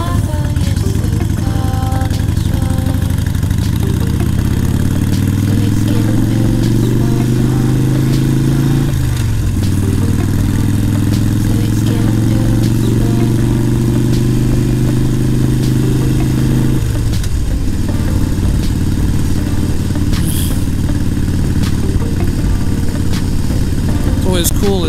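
A motorcycle ridden on roads in Kentucky, its engine droning loud and steady throughout, pitch rising and falling with two clear gear shifts, while a rider talks over it.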